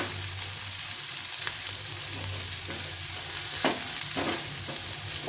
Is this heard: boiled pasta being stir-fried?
yes